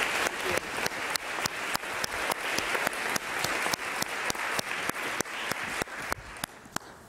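An audience applauds William McDonough as he is welcomed to the stage at a U.S. Chamber of Commerce event. The applause is steady and full, with dense overlapping clapping that holds throughout and thins slightly near the end.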